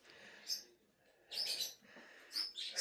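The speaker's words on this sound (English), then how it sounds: "excuse my birds" Pet birds chirping indoors in a home during floor installation, with bright short chirp bursts recurring in three clusters over a quiet room, fairly near and moderately loud, no talking.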